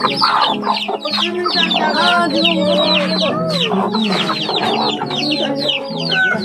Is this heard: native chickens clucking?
yes